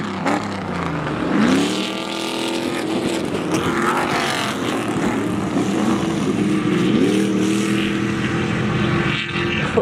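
Off-road trophy trucks race at a motorsport weekend that also features Indy cars, their loud engines roaring continuously with pitch sweeping up and down as they accelerate and pass nearby, with no talking.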